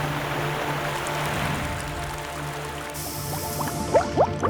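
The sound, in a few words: running and dripping water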